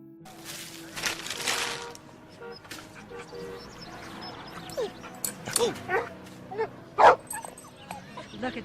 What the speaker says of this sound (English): Look at the cute dog.